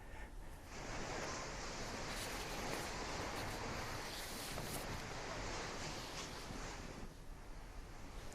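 Strong cyclone wind during Cyclone Nisarga near Pune, India, a steady broadband roar of gusting air and microphone buffeting throughout, loud and continuous with no talk.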